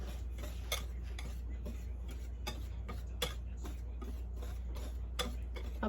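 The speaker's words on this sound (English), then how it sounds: "Whisk that all up really good" A whisk clicking against a bowl while mixing dry batter ingredients, flour with baking soda and baking powder, for beer-battered haddock; a quiet, irregular run of light ticks over a low hum, with no talking.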